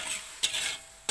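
Sugar and water stirred in a hot frying pan give a continuous hissing sizzle, broken by two short scraping stir strokes, close and fairly loud with no voices.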